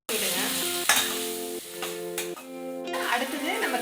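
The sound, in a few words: sautéing onions, tomato and chilli masala in a pan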